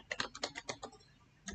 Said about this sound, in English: you can use the tab key on the keyboard to move forward